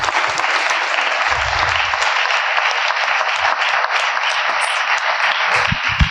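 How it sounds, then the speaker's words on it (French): Loud, dense applause from a conference audience on entrepreneurship and mental health, continuous and enthusiastic for several seconds, with faint voices and a brief low thump mixed in near the start and end. "Une bonne main d'applaudissements parce qu'ils ont travaillé fort."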